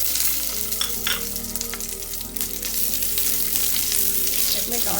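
Garlic, tamarind and onion fry with cumin and peppercorns in a hot pan for a brinjal and groundnut curry, a steady dense sizzle with scraping stir strokes throughout, close and loud, no talking.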